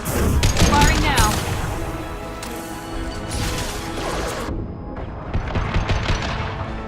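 Gunfire in Mass Effect 2, loud bursts of rapid shots with mechanical clatter and impacts, dense at the start and trailing into ringing tones and scattered shots, with voices in the mix.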